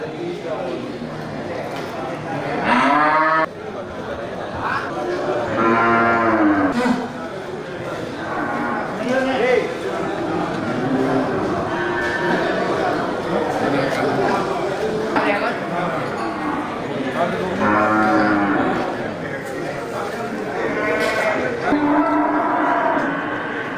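Cattle moo repeatedly at a busy livestock market, with long, overlapping calls close by and farther off, while someone talks over the steady crowd bustle.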